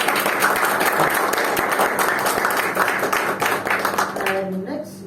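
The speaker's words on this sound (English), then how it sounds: "round of applause for that." Applause from the audience at a Toastmasters club meeting, dense clapping that stays steady and then begins to thin out at the end, with a brief voice near the close.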